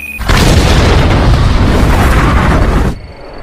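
A single loud, sustained explosion roars for nearly three seconds as a character is blown up, with a dense rumbling blast that cuts off abruptly.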